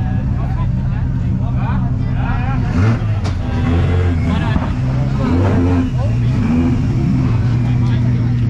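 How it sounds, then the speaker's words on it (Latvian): Drift cars at a Driftmasters GP round at Biķernieki in Riga, engines revving loudly and continuously with rough, popping bursts, and people talking nearby. "Mašīnas normāli šaudās, bet šitiem pilnīgi vienalga viss, vai ne?"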